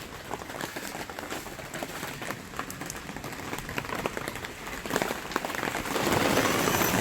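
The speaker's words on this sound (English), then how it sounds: "Show you that it is still raining and how hard." Steady heavy rain patters on surfaces outside an inflatable tent during a rainstorm, a dense continuous hiss with scattered louder drops, growing slightly stronger toward the end.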